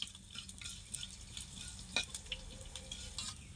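Black pepper, fenugreek and cumin seeds roasting in hot oil, a faint, crisp crackle and sizzle with a few light stirring scrapes and one sharper tick partway through.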